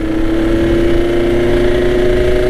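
A Kawasaki Ninja RR motorcycle engine runs loud and close with a steady droning hum, holding an even pitch throughout without clear revs.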